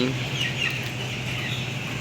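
Fifteen-day-old poultry-farm chickens from the fourth batch cluck and peep in a continuous flock chatter, steady and moderately loud, with no clear talk over it.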